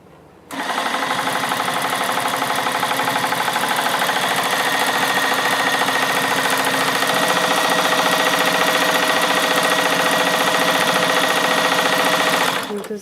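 A Juki TL2200 QVP sit-down long arm quilting machine stitches steadily, its close, even mechanical whir running unbroken for about twelve seconds before cutting off.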